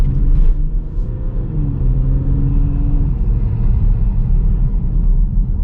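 A Jeep Grand Cherokee EcoDiesel fitted with a K&N charge pipe idles nearby in a low, steady diesel rumble with a slight pitch shift partway through, no talking over it.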